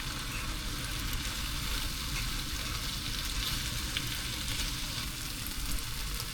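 Steady, dense sizzling of food frying in a pan as pepper is stirred in, a constant close hiss with faint scraping of stirring beneath it and no talk.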